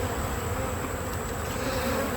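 Honey bees buzz steadily inside an open hive during an inspection of a brood nest, a dense, continuous drone that stays close and even throughout, with no talking.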